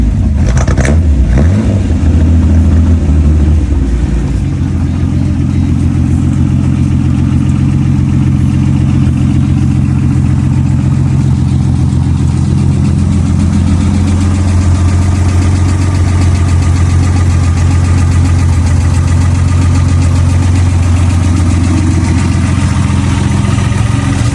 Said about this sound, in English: Now that is what you call a solid sounding engine.